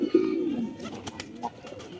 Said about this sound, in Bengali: ওই যে সে লটন কবুতর